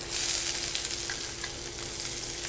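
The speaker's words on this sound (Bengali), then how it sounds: "এবার দিয়ে দিচ্ছি পেঁয়াজ।" Onions dropped into hot oil for a mixed vegetable curry, giving a bright, dense sizzle that starts loud and settles into a steady crackle, close and uninterrupted, with no talking.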